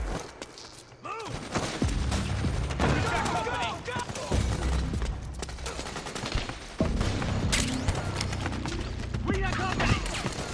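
Gunfire in the video game Metal Gear Solid 4: dense bursts of rifle and machine-gun fire with sharp shots and shouted voices, loud and continuous across a chaotic battle.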